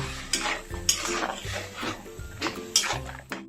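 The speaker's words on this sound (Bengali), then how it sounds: "লবণ দিয়ে দিলাম, এখন নাড়িয়ে দিচ্ছি" Soybean chunks being stirred in boiling salted water in a pot, with repeated scraping and clinking strokes and a soft watery bubbling underneath, fairly close.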